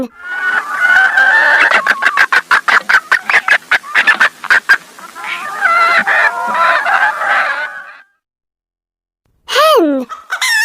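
Hen clucking and squawking on a farm in a dense run of repeated sharp calls, loud and close, stopping briefly before another burst of squawks.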